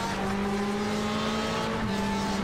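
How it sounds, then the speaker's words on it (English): A Porsche race car slides around a racetrack, its engine a steady close roar with a sustained tonal drone and no break for the full stretch. "Burkill really sliding around in that Porsche now, heading a lot of the turf all over the racetrack"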